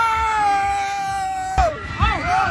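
Riders on a fast ride at a state fair scream together, with a long sustained scream that breaks into rising and falling yells. Ride noise rumbles underneath, and the crowd is loud and close.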